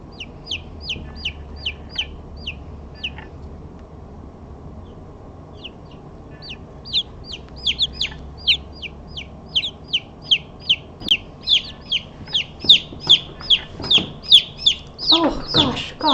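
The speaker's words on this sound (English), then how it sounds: "Here's some baby birds." Newly hatched baby chicks peep in a rapid run of high, bright chirps, close by, stopping briefly and then returning faster and louder over a soft low hum.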